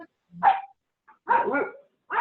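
Several dogs bark in short bursts as they play outdoors on an afternoon, a few loud, nearby barks with yips and gaps between them.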